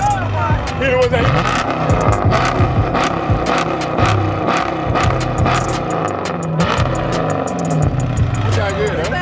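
Car engine revving loudly at a car and truck meet with lowered trucks, repeated throttle bursts over a steady rumble, with people talking and crowd noise throughout.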